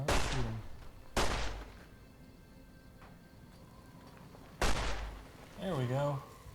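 Gunshots in Fallout: New Vegas, a 2010 video game, with three sharp, loud single shots spaced a few seconds apart and a brief voice near the end.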